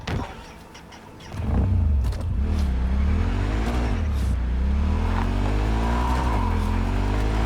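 Engine hum of a car being driven in Cyberpunk 2077, steady and loud with rising and falling pitch as it speeds up and slows, after a quieter opening second.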